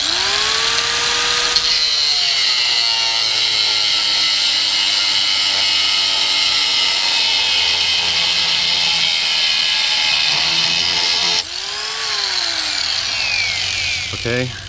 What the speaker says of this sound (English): I took the grinder, put it on the metal, and just let it drag to make a more distinctive mark in the material.